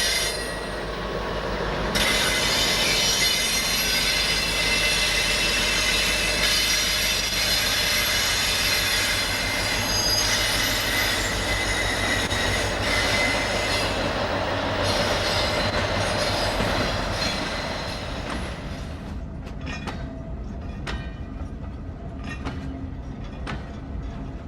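OO gauge model trains run around a WCML-style layout at Walton on Trent, a steady close rumble of wheels on track with squeal and light clicking, fading and thinning toward the end.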